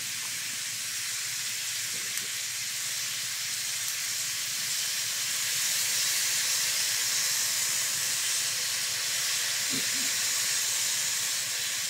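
Chicken liver sizzling in a pan as teriyaki sauce goes in, a steady, even hiss of frying that continues throughout with only a few faint clicks.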